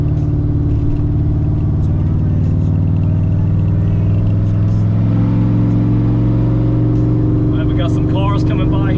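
A car speeds up on the Autobahn, its steady engine drone strong and close throughout, rising in pitch as the car gains speed, with some higher road and wind noise toward the end.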